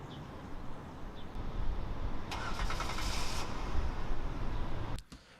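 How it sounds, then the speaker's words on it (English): A car engine cranks and catches, then runs at a steady mid-pitched rumble for several seconds before cutting off abruptly near the end, heard close with no talking. "we do not want that car starting noise"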